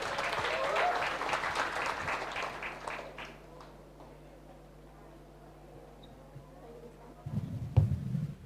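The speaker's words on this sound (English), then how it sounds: "A round of applause, please." An audience applauds a student presentation at a school programme. The clapping is moderate for about three seconds and fades into quiet room hum, then a brief loud bump or handling noise comes near the end.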